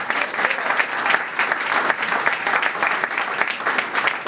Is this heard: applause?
yes